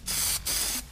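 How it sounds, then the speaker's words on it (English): Aerosol can spraying metallic Plasti Dip onto a car wheel, two close hissing bursts with a brief pause between them. "Just spray like that on that side,"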